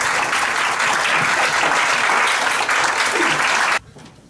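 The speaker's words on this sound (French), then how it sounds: "Un tonnerre d'applaudissements" A concert audience at a small venue in Liège claps loudly after a tango piece for voice and piano, dense sustained applause that cuts off abruptly near the end.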